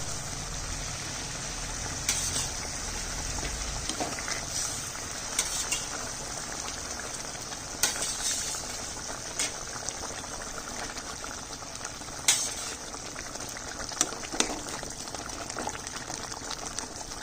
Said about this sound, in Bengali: গরম জল দিচ্ছি। মাছগুলো দিয়ে দিচ্ছি।